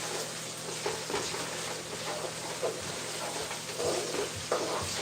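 Tomato paste and natural spices are stirred in a hot pan, a steady frying sizzle with soft scraping pulses of the spoon running throughout, close and moderately quiet.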